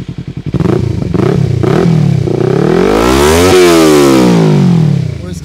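A Kawasaki Ninja 300 fitted with an Akrapovic R9 exhaust barks through a few quick blips, then revs hard and climbs to a loud, raspy peak before falling back, heard close up.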